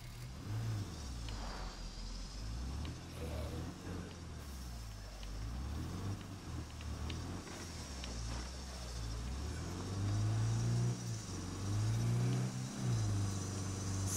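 A car driving in the video game State of Decay 2: a steady engine drone that rises and falls in pitch as it revs, growing louder toward the end, close and continuous, with no talk.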